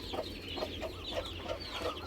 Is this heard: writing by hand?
no